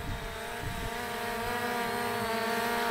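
A small X35 GPS drone with a gimbal camera hovers in the wind, its propellers giving a steady, fairly close high whine with faint tonal harmonics and no talk.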